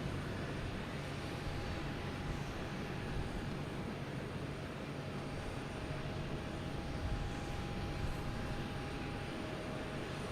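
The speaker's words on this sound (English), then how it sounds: "next to arrive is American Airlines coming in from Philadelphia. A321." An American Airlines A321 arrives from Philadelphia at Boston Logan Airport with a steady, broad jet roar that holds at an even, moderate loudness throughout, with no talking.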